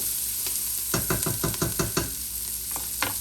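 Onions and peppers frying in a pan are stirred in a quick run of scraping strokes over a constant soft sizzle, with a couple more stirs after a pause.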